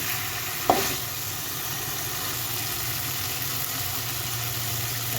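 Pigeon meat curry sautéing in a pan gives off a steady, continuous sizzle and low frying hiss, with one brief clatter near the start and no talking.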